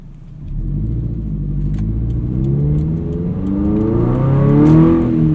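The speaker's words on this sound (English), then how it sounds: "take the BRZ out for a little bit of a drive" Subaru BRZ sports car engine pulling while driving, heard from inside the cabin: a low, close rumble that swells and climbs in pitch through gear changes as the car accelerates, with no talking.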